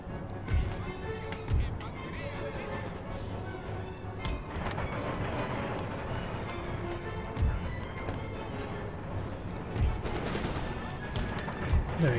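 Artillery firing round shot at an infantry square in Empire: Total War gives several distant booming thuds spread across a steady battle din of musketry and hoofbeats, with someone talking over it.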